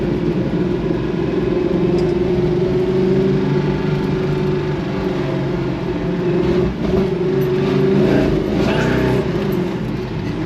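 Big Block Chevrolet Nova on Mickey street slicks, its engine roaring loud and close as it rolls through first gear, a steady heavy drone with slight surges throughout.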